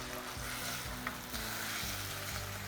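Chilli potato sauce stirred in a hot pan, a continuous sizzle and frying hiss with soft scraping movements, close and steady with no talk.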